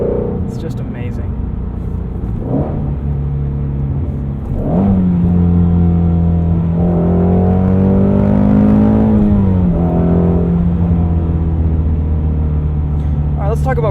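Ford Mustang Shelby GT350 V8 engine heard from inside while driving, a loud steady drone that swells into a strong rev midway and then settles back, with no talk over it.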